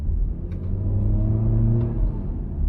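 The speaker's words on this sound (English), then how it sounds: "you can also hear the sound of the exhaust" A base model Honda Civic 1.8L S CVT engine and exhaust hum low and steady, a continuous rumbling drone that swells slightly in the middle.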